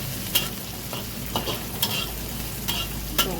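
Vegetables stir-fry in a pan until wilted, a close steady sizzle broken by several sharp scraping strokes of a spatula at irregular intervals, with no talking.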